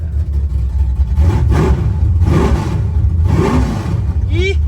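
A 1962 Dodge Lancer engine idling close by, a steady loud rumble that swells in roughly three surges of revs before settling back to idle.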